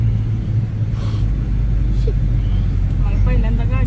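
A car engine runs with a steady low rumble inside the vehicle during a driving lesson, with a voice speaking over it.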